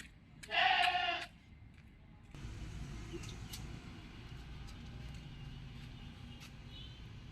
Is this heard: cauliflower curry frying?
no